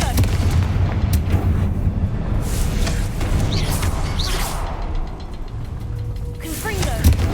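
Fiery spell blasts from the video game Hogwarts Legacy go off in repeated booming bursts with whooshing tails over a rumbling game background, and a voice speaks briefly.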